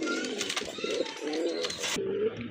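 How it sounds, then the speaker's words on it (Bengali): Soft, low coos from pigeons at a pigeon market repeat a few times against a faint background hum. "আরেক জোড়া কবুতর এখানে রয়েছে"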